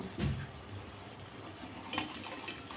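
Semolina gulab jamun sweets sizzling softly in hot oil as they are lifted out, with faint stirring and ladle clinks and a couple of brief scrapes against the pan.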